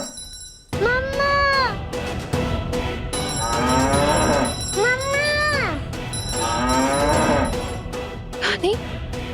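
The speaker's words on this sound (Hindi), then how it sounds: "तुम इतना क्यों रंभा रही हो?" A cow moos in long, drawn-out bellows, three loud calls close by with short gaps between them, while a voice speaks briefly over the mooing.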